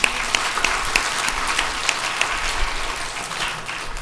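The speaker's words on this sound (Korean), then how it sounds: "그 하나님께 영광의 박수 올려드립니다." Steady applause from a church congregation, a continuous patter of many hands clapping at a fairly even level throughout.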